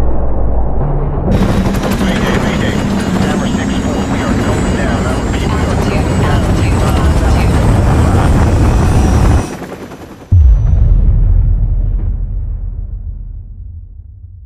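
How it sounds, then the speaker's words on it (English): Explosive missile strike and heavy gunfire in the Call of Duty Modern Warfare video game: loud, dense battle noise rumbles continuously, cuts out briefly near the end, then a low roar returns and slowly fades. "Incoming missile."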